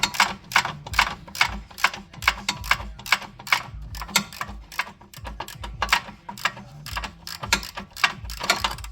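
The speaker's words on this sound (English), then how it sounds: "loosen that ratchet while I hold the bolt with this wrench on the other side" A hand ratchet loosens a motor mount bolt on a 2004 Saab 9-5 Aero wagon, giving rapid bursts of close, sharp clicking in repeated strokes with short pauses between them.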